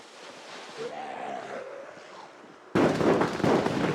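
Thrown explosives in Project Zomboid go off with a sudden loud crackling burst that cuts in after a quieter stretch and keeps popping and sputtering to the end.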